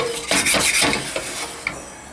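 Carrots and shallots, with a splash of wine over high heat, are stirred in a pan, giving scraping, clattering strokes and a soft sizzle that fade into a quieter simmer with a couple of sharp knocks.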